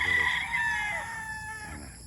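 An eight-month-old Sweater x Boston Roundhead gamecock crowing, a single loud close cock-a-doodle-doo that trails off over about two seconds.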